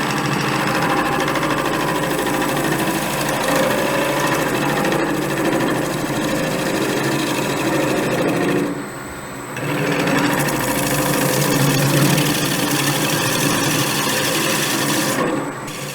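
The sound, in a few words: wood turning on a lathe with a skew chisel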